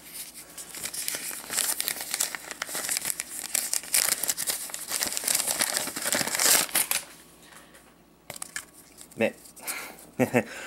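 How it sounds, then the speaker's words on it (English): Sheet of paper shifted aside and crinkled while sorting a collection of Pokémon cards, with dense rustling and crumpling up close, then a few sharper crinkles after a brief lull. "Let me just get that piece of paper out of the way."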